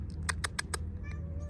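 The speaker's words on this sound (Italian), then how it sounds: "Ehi gattino." A kitten in the mountains near Belluno lets out a few short meows close by, followed by a faint softer call in a quiet outdoor setting.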